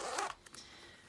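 A quick zipper pull on a planner's zipper pocket, one short raspy zip lasting a fraction of a second, followed by a couple of faint clicks, close and quiet.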